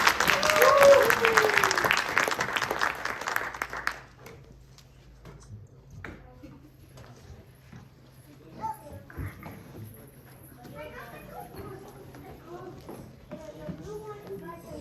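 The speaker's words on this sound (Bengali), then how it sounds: "আহমেদের জন্য এবং নুবাইশার জন্য অনেক জোরে হাততালি" Loud, dense clapping for two performers at a gathering with children fills the opening few seconds, then falls away to quieter room chatter, shuffling and scattered movement.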